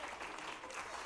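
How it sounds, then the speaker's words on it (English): A church congregation claps hands in praise, a dense, steady wash of applause that fills the whole moment with no pause. "Give the Lord a big hand clap of praise."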